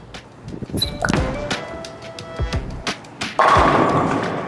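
A Radical Guru Oracle bowling ball is thrown down the lane: a few sharp thuds and clacks, then a rolling rumble that swells loudly near the end, with alley clatter around it.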